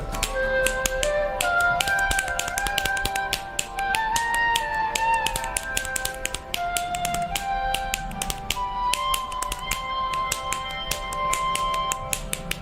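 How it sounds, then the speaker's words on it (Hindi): Tabla-like beats made only with bare palms and finger snaps: a dense, steady stream of crisp snaps and slaps rings out alone over a sustained melodic tone, loud and close throughout. "हथेली और उंगलियों की चुटकियों से चुटकी में तबले की थाप निकालने वाले संगीत का अजब जादूगर"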